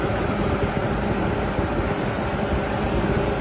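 A bus air conditioner, an AC unit on an Isuzu Elf Giga bus body, runs as a steady, dense whir with a constant roar and no clear change in pace.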